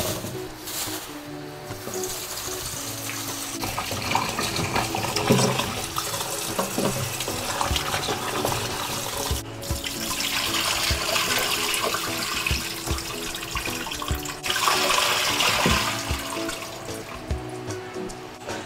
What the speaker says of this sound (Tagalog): hugasan na natin yung mga okra